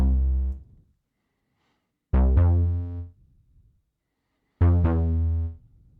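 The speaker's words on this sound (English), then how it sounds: "we've got this second Juno synth," Three deep bass notes from a Juno synthesizer, each held about a second with clean harmonics, separated by silences, played alone.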